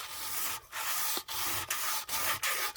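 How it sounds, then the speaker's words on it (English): Hand sanding of an Alfa Romeo OZ Monza three-piece alloy wheel, rubbing along the wheel's direction: close, steady abrasive strokes broken by brief pauses about every half second. "Whereas if you sand in motion with the wheel"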